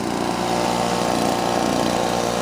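A 2-stroke Sears Craftsman leaf blower, a 2008-or-later model, idles smoothly and steadily up close, its small engine putting out a constant buzzing drone with no throttle changes.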